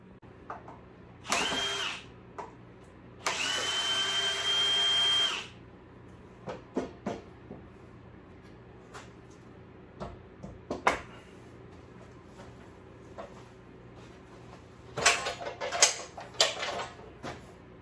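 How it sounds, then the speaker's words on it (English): Two bursts of a chainsaw's high buzzing as it cuts lines around an upright tree trunk for carving, the second one several seconds long, followed by scattered knocks and later short revving bursts. "Just gonna take the chainsaw and just make lines all the way around the tree."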